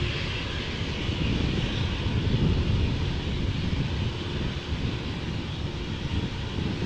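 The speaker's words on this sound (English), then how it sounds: "We have an Embraer 190 outbound to Leeds." A 13-year-old KLM Embraer 190 jet departs Amsterdam Schiphol for Leeds, its engine roar a broad, steady rumble heard from a distance with some wind buffeting the microphone.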